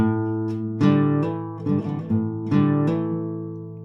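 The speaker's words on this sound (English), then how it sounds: "your 2 and 3 fingers will be doing a hammer-on and pull-off sequence here." A clean guitar riff with quick hammered and pulled notes between plucked strings, ringing clearly and repeating its short phrase, no voices.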